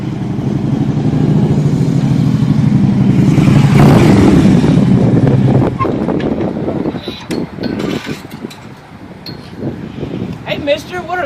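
A motorcycle fitted with aftermarket exhaust pipes revving, a loud rough engine roar that swells and then fades into scattered mechanical clatter, with people talking over it.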